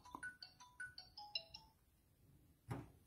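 An electronic phone ringtone plays a bright, clean melodic phrase of quick stepped beeps, close and clear, followed by a brief pause and a single soft thump.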